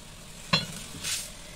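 Water poured into a hot tadka of spices in a pan for dal, a sharp burst of sizzle and then a softer hiss with stirring, close and brief.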